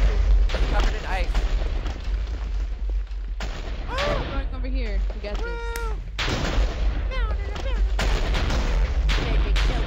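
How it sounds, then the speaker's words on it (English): Repeated booming TNT blasts and gunfire-like bursts from Minecraft, with whistling tonal effects and a voice talking over the action. "there's so many explosions"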